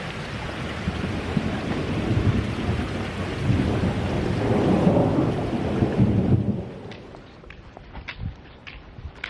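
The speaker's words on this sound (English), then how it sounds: "Really crazy rain right now, and thunder." Heavy rain pours in a dense roar with a deep rumble of thunder swelling through the middle, then the downpour drops away to scattered drips, in Scandinavia.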